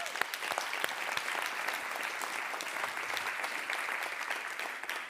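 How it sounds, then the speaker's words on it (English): A big audience at an education charity evening applauds for speakers, volunteers and donors: dense, steady clapping that fills the room evenly and holds at full strength throughout. "What a big round of applause for all of them"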